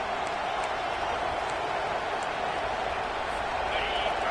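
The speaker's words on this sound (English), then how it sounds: "This crowd, full throat, splitting the eardrums" Football stadium crowd at a TCU game roaring during a defensive timeout, a dense, sustained wash of cheering heard from a distance beneath broadcast commentary.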